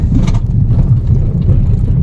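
A car being driven through intermittent rain in the Konkan countryside, its engine and road noise forming a steady, loud low rumble from inside the cabin, with no talking.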